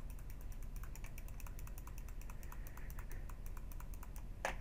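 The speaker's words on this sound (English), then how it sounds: "All you probably hear is my mouse clicking" Rapid computer mouse clicking during a Cookie Clicker game, a fast run of sharp, close, evenly spaced clicks with no talking.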